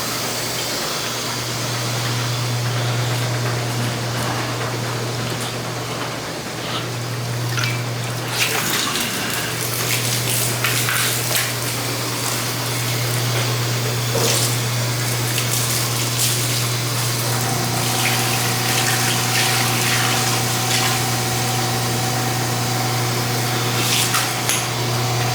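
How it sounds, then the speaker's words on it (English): Water running steadily into a clogged drain before plunging, a continuous close gushing and spraying rush with a low steady hum underneath, holding level and unbroken throughout with no talking. "So basically right now we're just letting more water fill up in it"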